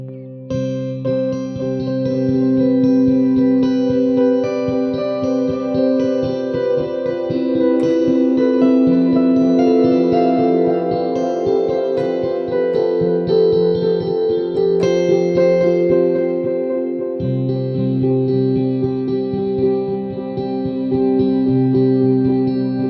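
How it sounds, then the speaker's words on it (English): Ambient cinematic instrument from the Fracture Sounds Hemisphere library, played with heavy echo: sustained layered tones and chords that shift slowly while repeats trail and blend over about twenty seconds, alone with no voices. "I like a whole lot of echo."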